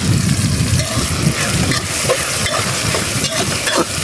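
Mutton fry masala with chili sautéing in a pan outdoors by a riverside: a continuous close sizzle with scraping stirs and occasional clinks of the spatula, with no voices.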